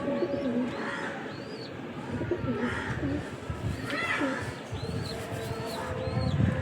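Pigeons coo in a loft, several overlapping rolling coos and soft chirps repeating close by over a constant low background murmur.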